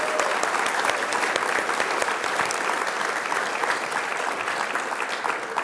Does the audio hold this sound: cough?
no